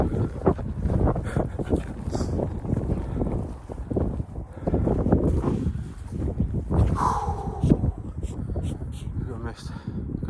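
Gusty wind roars across a microphone on a mountaintop during a winter walk, a constant rumbling buffet that surges and dips, with a person talking intermittently over it.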